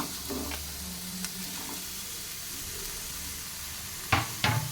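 Onions, green chillies and tomato fry in oil on a stove, a soft continuous sizzle with a couple of sharp utensil knocks near the end.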